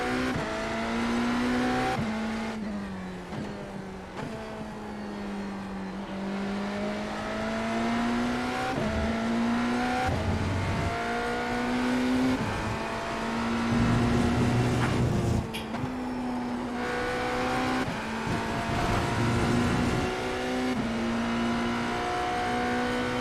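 A hypercar accelerates at Catalunya in a racing video game, its engine whining upward through repeated gear shifts, loud and close, with steady rising pitch sweeps broken by quick shift dips.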